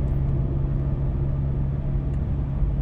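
Steady low engine drone from an Audi/VW car with an automatic gearbox stuck in one gear, holding about 2000 rpm while accelerating without any shift; continuous and even, with no change in pitch.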